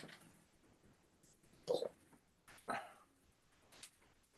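Dogs indoors give two short barks and a whimper a second apart, fairly faint against a quiet room, then a softer yip near the end.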